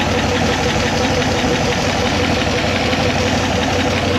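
A 1976 Corvette engine idles with its A/C compressor engaged, a loud, steady, close rumbling drone with constant knocking texture and no talking.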